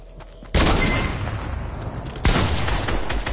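Two sharp sniper rifle blasts in the Fortnite video game, one near the start and another about two seconds later, each loud and close with a long rumbling decay that fills the gaps between them.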